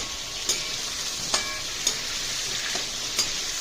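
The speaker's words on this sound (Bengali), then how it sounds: "আলু পটল রেডি ভাজা হয়ে গেছে আর একটু ভাজলে" Potatoes and pointed gourd frying in a pan give a steady, loud sizzle, broken by several sharp spatula taps against the pan at irregular intervals.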